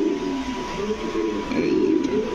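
A Gola pigeon coos in low, repeated rolling calls, close and fairly loud, against a constant background hum.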